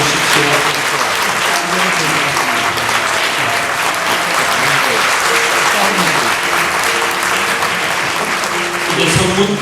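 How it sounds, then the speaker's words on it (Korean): Sustained, loud applause from a congregation filling a church during a Presbyterian pastor ordination service, steady clapping throughout with some voices mixed in. "여러분 다시 한번 박수해 주십시오."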